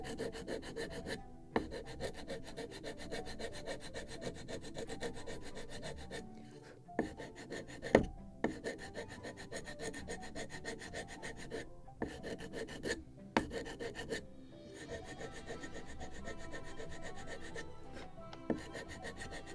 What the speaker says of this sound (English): Of course I can make it also with sanding block.